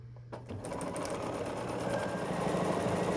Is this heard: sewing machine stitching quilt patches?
yes